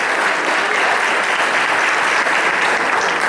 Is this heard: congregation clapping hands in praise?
yes